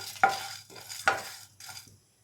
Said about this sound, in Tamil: இப்போ சீரகம், மிளகெல்லாம் வெடிக்க ஆரம்பிச்சிருச்சு